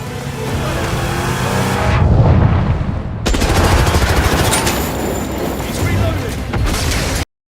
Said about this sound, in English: he's literally running at villains who are shooting at him with machine guns